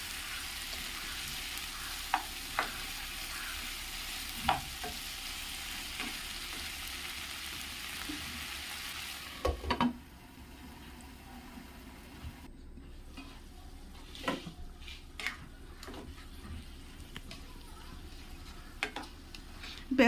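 Brinjal sizzles as it is stirred and sautéed in a pan for theeyal, a close steady frying hiss broken by occasional spoon-on-pan knocks, turning quieter and more muffled partway through while the stirring clicks continue.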